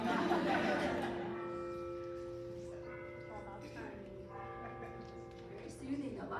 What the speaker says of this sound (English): Wait for the bells.